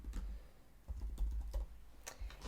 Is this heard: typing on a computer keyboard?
yes